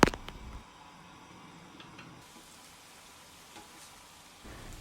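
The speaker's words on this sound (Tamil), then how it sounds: "எண்ணெய் ஓரளவு சூடானதும் அதுக்குள்ளே உருண்டை பிடிச்சி வச்சுருக்க ரவையை போட்டு பொரிச்சு எடுத்துக்கொள்ளுங்க" Rava gulab jamun balls fry in hot oil with a soft, continuous sizzle and faint bubbling. A louder clatter comes at the start, and a few small pops follow.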